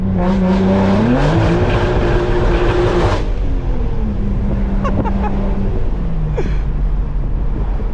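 A loud BMW M3 engine roars close by, rising in pitch and then dropping off, with sharp popping and crackling bursts from rolling anti-lag as it rolls on.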